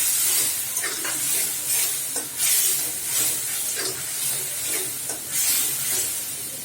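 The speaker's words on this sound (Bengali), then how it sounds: "আর আমি এই যে লিকুইড দুধটুকু দিয়ে দিচ্ছি" Prawn and vegetable curry sizzling and hissing steadily in a hot pan as liquid milk is poured in, with stirring scrapes over a constant frying crackle.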